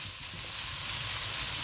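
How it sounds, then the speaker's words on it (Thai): Half a kilo of pork belly, cut into pieces, sizzles steadily in a pan over medium heat as its fat renders out, a dense continuous frying hiss with no voices. "เจียว3ชั้นของเรานะรีดน้ำมันออกก่อน"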